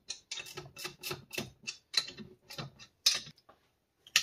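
Cylinder head bolts on a Zeda two-stroke motorized bicycle engine are tightened with a ratcheting wrench, giving rapid, close clicking bursts in quick succession.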